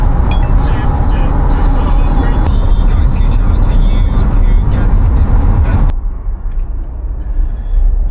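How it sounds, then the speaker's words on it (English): A vehicle towing a cheap trailer crawls through a traffic jam. Loud, close engine rumble and road noise from cars, buses and trucks fill the scene, then drop off sharply toward the end. "Traffic jam, we barely moving."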